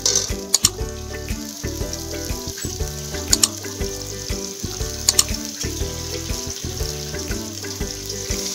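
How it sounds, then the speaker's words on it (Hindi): Water is poured into a hot cooking pot for rice in a home kitchen, giving a loud, crackling sizzle with sharp pops and a steady splashing rush that carries on throughout, with no talking. "अब हम चावलों के लिए पानी डालें।"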